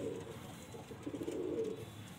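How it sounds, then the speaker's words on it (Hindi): A Khaira pigeon coos softly nearby, low throaty murmurs rising and falling over a couple of seconds against faint background noise. "ये खैरा कबूतर है भाई"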